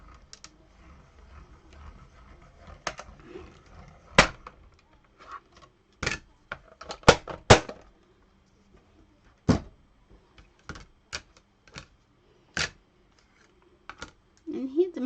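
Card stock with a metal die being cranked through a manual die-cutting machine: scattered sharp clicks and knocks, some in quick clusters, separated by quiet pauses.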